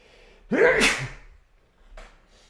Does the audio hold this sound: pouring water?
no